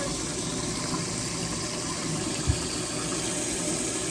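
Warm water runs steadily from a shower head on a wash day, a broad continuous hiss of spray with one brief knock partway through and no talking.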